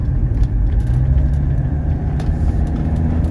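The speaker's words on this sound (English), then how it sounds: "I just hit the kick down on the transmission. It dropped it down a gear like it's supposed to." Low steady engine rumble from inside a 1982 Mercedes 300D diesel as the transmission kicks down a gear and the car accelerates, droning continuously and close.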